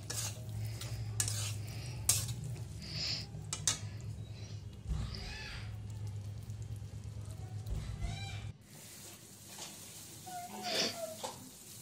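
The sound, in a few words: chicken feet curry being stir-fried in a pan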